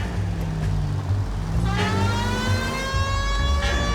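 A police car siren in the video game L.A. Noire wails, rising and sweeping in pitch over a steady low engine rumble, loud and continuous with no talking.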